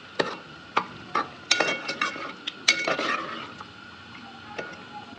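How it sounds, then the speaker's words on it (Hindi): A spoon stirs beef and yogurt in a metal karahi, producing sharp scraping clinks and knocks in an irregular rhythm, close and fairly loud at first, then thinning out, with no talking. "अब हम गोश्त के साथ दही को जो है वो अच्छे से कर लेंगे मिक्स।"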